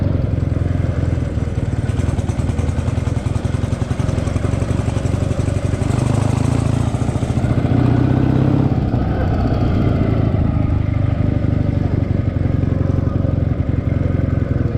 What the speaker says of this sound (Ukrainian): треба спробувати тронутися без щеплення. Вийде чи ні, е, щоб потихеньку ввімкнути передачу перву. Ну і тронутися.